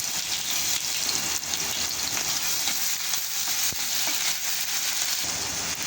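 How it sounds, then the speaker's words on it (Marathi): Half a spoonful of mustard seeds crackles in hot oil, a close, continuous sizzle sprinkled with small sharp pops. "तेल थोडं गरम झालं का मोहरी टाकून घ्यायची अर्धा चमचा मोहरी चांगली तडकली का"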